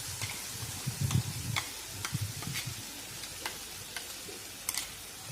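A spoon stirs ground moong dal and sugar in a pan for ashoka halwa, giving repeated close scraping strokes at an even rhythm over a soft, steady sizzle, with no talking.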